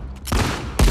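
Two sharp, close gunshots ring out in The Last of Us Part II, each a loud crack with a short tail, spaced about half a second apart.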